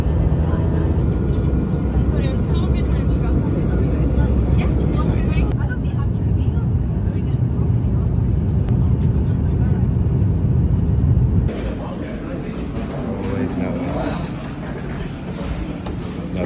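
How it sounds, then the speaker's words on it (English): Manchester Airport terminal at 3 a.m., a steady, dense wash of low rumbling ambience like distant aircraft or vehicles. It runs continuously and then drops to a quieter, thinner hum partway through, with faint voices mixed into the background. "Manchester Airport, 3 a.m."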